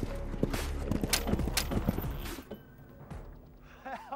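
Horse hooves clip-clop in a quick irregular rhythm, close and fairly loud during a Napoleonic Wars weapons test on horseback, then fade into quieter ground noise with a few scattered knocks near the end.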